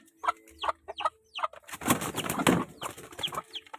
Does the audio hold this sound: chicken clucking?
yes